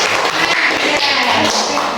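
A short burst of clapping from a group, steady and dense for about two seconds, with some voices mixed in.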